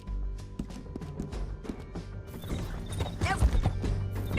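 Horse hooves clip-clop with knocks and a whinny in the Red Dead Redemption 2 video game on PS5, then busier galloping and crashing sounds with a low rumble, all fairly faint.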